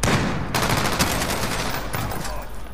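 Light machine gun fire from a camping enemy in a shooter game, a loud continuous rattling burst of rapid shots that runs the whole moment without pause.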